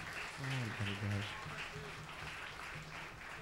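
A church congregation claps together while a voice leads them, with steady applause running beneath the talk in a reverberant worship hall.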